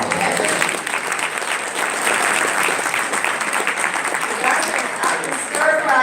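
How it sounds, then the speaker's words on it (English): A breakfast audience claps loudly for the food sponsors, a dense sustained round of applause that stays close and even for the whole stretch. "We have to give another round of applause."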